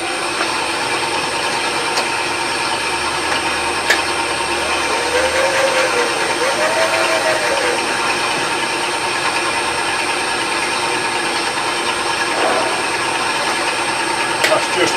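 A metal lathe turning at 1000 rpm makes a steady, even mechanical hum with a faint whine, and a few brief ticks and clicks sound over it.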